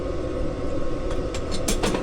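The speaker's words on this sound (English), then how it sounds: "Sorry about the noise of the fan." A small solar-powered ventilation fan in a composting toilet runs with a steady, close whirring drone, broken by a few brief scraping knocks near the end.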